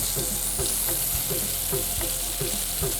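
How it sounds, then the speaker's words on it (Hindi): Garlic browning in oil with cut tomatoes placed face-down in the pan, producing a constant close sizzle and frying hiss with light rhythmic scraping or stirring sounds. "यहाँ पे गार्लिक जो ब्राउन हो रहा है, इस बीच में मैं जो टमाटर मैंने काटे थे इनको उल्टा कटी हुई साइड नीचे रख के इसमें डाल दूँगा"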